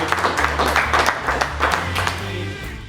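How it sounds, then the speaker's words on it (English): Audience applause breaks out, a steady wash of clapping with a low musical tone running underneath for about three seconds. "Let's give him a round of applause"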